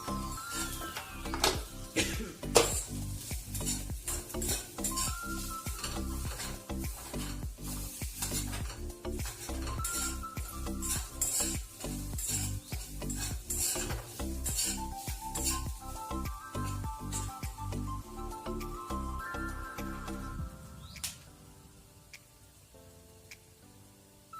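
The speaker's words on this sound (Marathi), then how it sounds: "चांगलं लाल होईपर्यंत परतून घ्यायचं आहे।" A ground masala paste is stir-fried in a pan for a potato snack, spatula scraping and clinking steadily over a continuous sizzle, with busy stirring strokes that ease off near the end.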